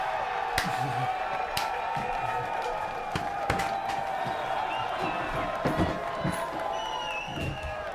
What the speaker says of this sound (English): Oh, I like the cheering.